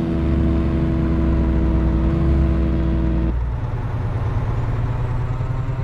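Kenworth K200 truck engine idling and lugging at low RPM in American Truck Simulator, a loud, steady low drone with a brief hiss near the middle, then a rougher rumble as the tone shifts.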